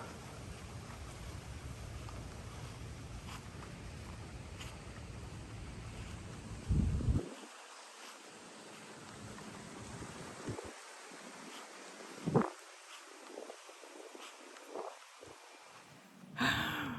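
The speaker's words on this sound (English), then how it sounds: "Got a nice breeze coming up right now." A breeze blows along the Egan's Creek Greenway trail, with loud, gusty wind rumble filling the first seven seconds, then easing to a quieter outdoor hush broken by a few brief gusts.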